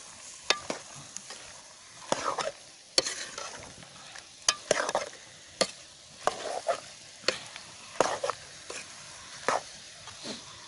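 Teetak (ilakai sabzi) is stirred and mixed in a pan over a fire outdoors, with repeated sharp scrapes and knocks of a spoon against the pan over a faint sizzle, close and irregular.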